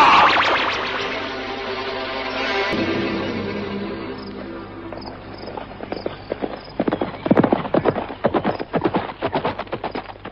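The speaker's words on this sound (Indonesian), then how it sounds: "Rupanya mereka sudah menyiapkan kuda." Horses gallop in a radio drama, their hooves striking in quick, rhythmic clip-clops that grow louder and denser toward the end after a stretch of quieter background.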